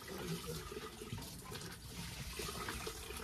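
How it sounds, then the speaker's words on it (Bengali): Water is poured and splashes continuously while a child is bathed, a steady, moderately close wash of liquid sound with no talking. "আমার বাপি চান করাচ্ছে তাকে।"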